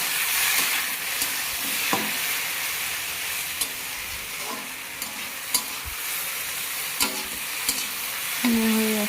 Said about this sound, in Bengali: ভালো করে ভেজে নিতে হবে, নইলে গন্ধ করবে একটু কচুলতা তো।